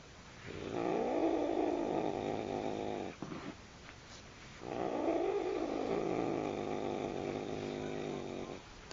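A slow, rumbling purr in two long rhythmic stretches, close and steady, separated by a short pause with faint shuffling.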